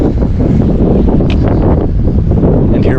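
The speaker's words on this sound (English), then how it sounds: "This is how windy it is on the lake today." Strong wind buffets the microphone at the top of Old Baldy overlooking a lake, a loud continuous low roar with gusty rumble and no voices.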